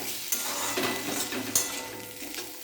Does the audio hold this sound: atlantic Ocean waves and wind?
no